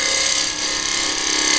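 A gum burl spins on a wood lathe while a tool cuts it, making a steady, loud, hissing scrape that continues without a break.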